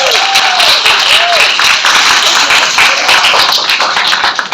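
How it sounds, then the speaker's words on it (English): Audience applause at a business growth summit, a dense steady wash of clapping from a crowd filling the whole stretch, with a faint voice briefly audible over it. "give yourself a big round of applause"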